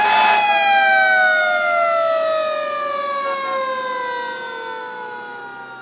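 An emergency vehicle siren wails loudly and steadily near a roundabout, its falling tone sweeping down alone for several seconds.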